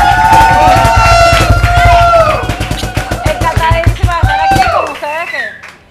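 A studio audience at a live streamed show erupts in loud, sustained applause and cheering with excited shouts. The voices gradually thin out toward the end, and a host's speech rises over the fading crowd.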